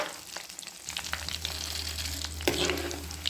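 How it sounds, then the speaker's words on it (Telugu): Cumin seeds and asafoetida tempering in hot oil for an Andhra yam and Malabar spinach curry, with a steady close crackling sizzle, sharp pops and a brief stir or clink partway through. "తర్వాత జీలకర్ర మంచిగా పోపు వేగనివ్వాలి"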